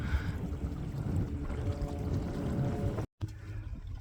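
A MacGregor 26M sailboat moving under sail, with water rushing and sloshing along the hull and wind noise, close and fairly quiet, cut by a brief dropout near the end.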